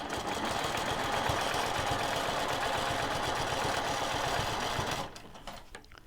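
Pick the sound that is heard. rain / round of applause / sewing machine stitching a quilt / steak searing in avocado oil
sewing machine stitching a quilt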